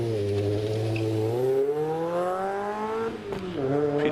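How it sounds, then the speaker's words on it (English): Peter Taylor's 2-litre Mazda MX-5 launches off the line at the Prescott speed hill climb, the engine revving hard and climbing in pitch with a quick gear change near the end, loud and close. "Peter Taylor goes off the line in his 2-litre Mazda Mx-5"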